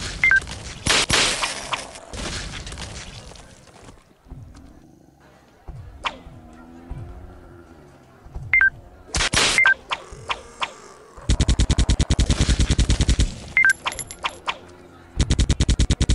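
Gunfire in the mobile shooter game Circus Master Revenge, with clusters of rapid sharp shots and sustained bursts separated by pauses, plus scattered game effects between volleys.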